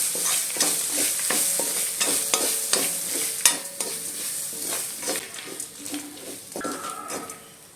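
Grated coconut roasting in a pan for piranda chammanthi, with steady scraping and stirring clatter of a spoon against the metal over a soft sizzle, close and fairly loud, no talk.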